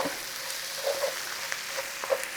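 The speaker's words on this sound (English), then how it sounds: "In there, your garlic. Nice little 30 seconds and stir it in." Garlic is stirred into browned mushrooms in a frying pan, producing a soft continuous sizzle broken by small scraping stirs.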